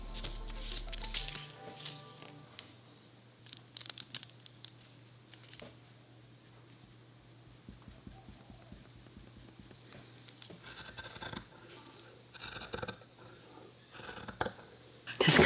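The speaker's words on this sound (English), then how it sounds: "Does cutting fabric make anyone else nervous?" Scissors snipping through dress fabric for a homemade maternity dress, with repeated close crisp cuts coming in irregular bursts between quieter pauses.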